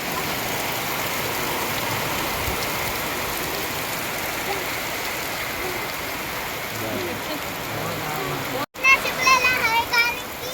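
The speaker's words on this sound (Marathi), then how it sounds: "आणि पाऊस सुरू झाला." Steady rain pours over a village near Satara, a dense, even hiss filling the air for most of the stretch, with children and adults talking over it before a sudden cut leaves closer voices.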